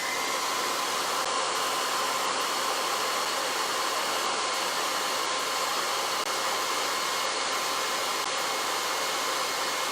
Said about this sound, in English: let's blow dry one last time and then see if it does anything.